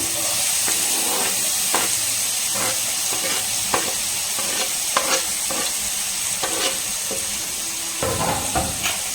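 Chopped banana and apple are stirred in hot ghee, a close, steady sizzle and hiss broken by repeated scraping and stirring strokes at an irregular rhythm, with no talking.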